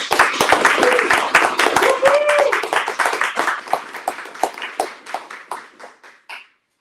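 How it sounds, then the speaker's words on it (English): Audience applause at a speaker series event, a crowd of sharp hand claps that starts full and busy, then thins to scattered individual claps before stopping, with brief voices mixed in. "So I just want to give a big round of applause for Evie."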